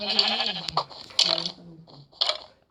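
Sheep in the Minecraft video game bleat in three quick wavering cries, bright and close, with a few clicks between them and no talk over them.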